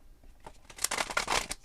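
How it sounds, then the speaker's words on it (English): Oracle cards being shuffled by hand, a short close burst of riffling and papery flicks that grows louder toward the end, with no talking. "So I'm going to shuffle the cards"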